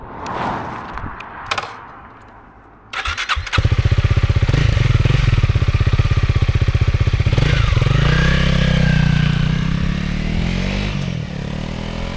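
A Honda CRF300L motorcycle starts after some brief handling clicks, then its engine runs loud and close with a steady thumping idle that picks up as the ride begins.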